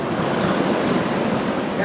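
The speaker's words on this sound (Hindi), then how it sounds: "पानी देख लो कितना शोर कर रहा है।" Loud, steady rush of water roaring close by, a continuous broadband wash with wind buffeting the microphone and no clear pauses.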